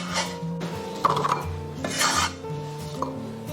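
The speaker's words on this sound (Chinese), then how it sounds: "我们给它改刀切成块。" A knife cuts an onion into chunks on a wooden board, with several close rasping chops and slices in uneven bursts, and no talking.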